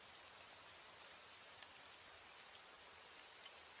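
Steady falling rain makes an even, soft hiss of dense raindrops with no breaks, faint and continuous throughout, with no voices.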